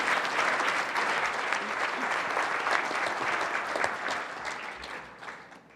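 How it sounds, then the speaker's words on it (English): Applause from an audience at a City Club of Portland civic forum on schools and racial equity: a dense, steady wash of clapping from many hands that holds for several seconds and then thins out toward the end. "Please join me in a warm round of applause for all of them."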